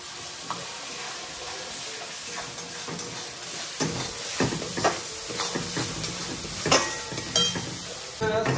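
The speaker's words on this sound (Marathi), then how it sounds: "गरम तेल असल्यामुळं पटकन हा मसाला तेलात टाकल्या थोडा वेळ जातोय न जातोय तोपर्यंत आपण टोमॅटोची प्युरी टाकतोय" Masala and tomato puree frying in hot oil for restaurant-style paneer patiala, a loud continuous hiss and sizzle that swells as more goes in, with intermittent stirring scrapes near the pan.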